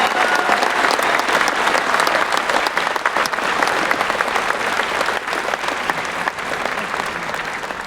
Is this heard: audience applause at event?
yes